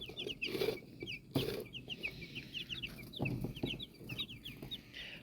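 Young chicks cheep in rapid, high repeated peeps across the whole stretch, with soft shuffling and a couple of louder knocks nearby, no talk.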